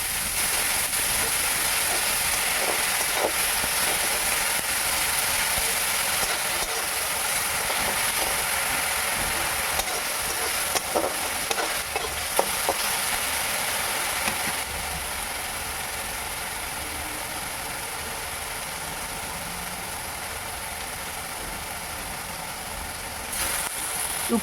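Ground onion paste frying in oil produces a long, even hiss that holds steady throughout at moderate volume, broken now and then by faint crackles and clicks, with no talking.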